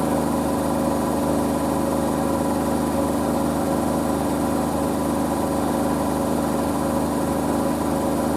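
A Zanussi Z716WT83BI integrated washer dryer runs its final spin, a steady loud droning hum with constant vibration throughout and no talking.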